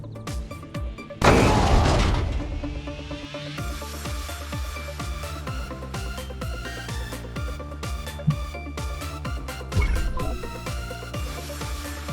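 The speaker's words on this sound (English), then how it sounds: "Just use your psi ability to interact with the gas tank," A gas tank explodes at a military base in the Destroy All Humans remake, one loud booming blast with a crashing tail lasting a couple of seconds over steady rhythmic game music, with another smaller bang later.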